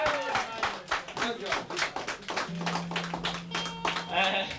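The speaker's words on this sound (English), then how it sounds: "deserves a big round of applause for all the work he's put into the Crosserlough club" Pub crowd clapping for a round of applause at a 1983 Gaelic football club Irish night in Kilnaleck, County Cavan: a close, uneven burst of claps steady throughout, with chatter and a low electrical hum underneath.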